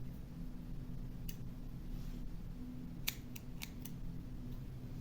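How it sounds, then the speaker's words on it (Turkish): Scissors snip leftover yarn ends from a crocheted rose motif, giving a few faint, crisp clicks close by over a steady low background hum. "Esnettikten sonra dışarıda kalan ipleri kesiyorum."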